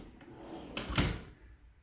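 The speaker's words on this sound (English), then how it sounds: "It's nice slow closing doors" A slow-closing kitchen cabinet door in a home with granite counters and a backsplash shuts with a soft muffled thump, preceded by a faint sliding rustle, close by and alone.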